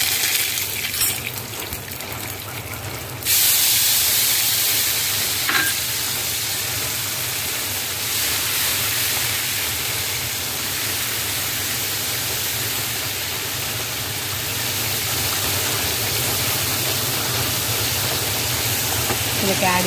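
Curry leaves hit hot oil in a pan with a sudden loud burst of sizzling that settles into a steady, dense crackling hiss, with faint voices underneath.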